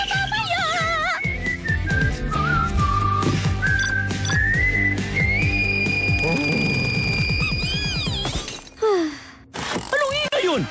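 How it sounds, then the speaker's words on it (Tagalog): A cartoon pop star whistles a sliding, wavering melody over a busy musical backing, loud and sustained, then ends with crashing, shattering effects and brief voices. "International pop star na sumisipol!"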